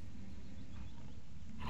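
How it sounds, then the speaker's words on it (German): A lone wolf growls in the game Gothic 2, a single short, low, rumbling snarl that stays steady and close for under two seconds. "Ein einsamer Wolf."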